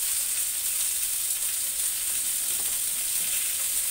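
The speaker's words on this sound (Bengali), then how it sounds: "সুন্দর করে একটু ভেজে নেবো কচুর গাঠিগুলো" Taro stems frying in a pan with red chilli powder, a steady, loud, close hiss of sizzling oil throughout with faint stirring, no talking.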